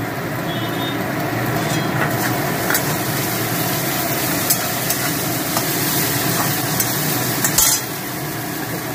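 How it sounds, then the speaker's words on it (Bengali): Ginger paste, green chilli and garlic fry with onions for a vegetarian jackfruit curry, making a loud, steady sizzle with repeated spoon scrapes and clicks against the pan and no speech. "এখানে আদা বাটা, কাঁচা লঙ্কা আর রসুন আছে, এটা পেঁয়াজের মধ্যে দিয়ে দিলাম।"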